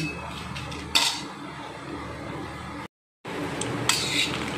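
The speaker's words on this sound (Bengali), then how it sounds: "প্রথমে শুকনো লঙ্কা দিয়ে দিলাম, দিয়ে একটু ভালো করে নেড়ে নিচ্ছি।" A spatula stirs dry red chillies in mustard oil in a metal wok for raw mango pickle, with clinks and scrapes against the pan and a brief gap of silence midway.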